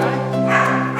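Dogs at a dog shelter barking and yipping continuously, a dense chorus of mixed voices close by with a steady level throughout.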